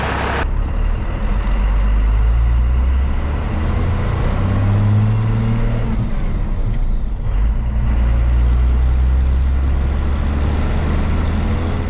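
A first-generation Cummins diesel crew cab truck with a charging fault drives along, its loud, steady low engine drone and road rumble filling the whole stretch with no one talking.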